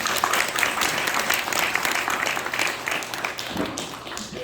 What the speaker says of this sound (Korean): 박수로 좀 환영해.